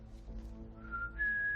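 A person whistles to imitate a space flute, a thin wavering tone that slides upward to a sustained high pitch, close and fairly quiet over a faint low hum.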